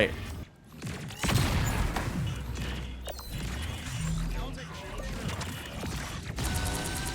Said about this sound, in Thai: อัลติเมตก็คือยิงบึ้มบึ้มบึ้มบึ้มอย่างนี้เลย